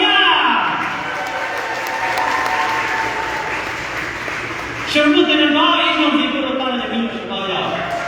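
Audience applause at a graduation ceremony, a broad continuous wash of many hands clapping across a large room, swelling slightly midway, with voices talking over it.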